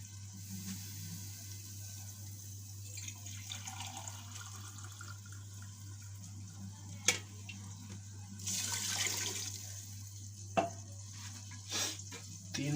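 Water goes into a pot for chickpea pulao with uneven splashing and gurgling bursts over a low hum, mostly faint, with a few louder pours toward the end.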